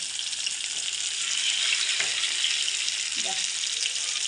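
Steady, loud hiss and crackle of pearl spot fish frying in hot oil, continuous throughout with a couple of brief clinks or scrapes.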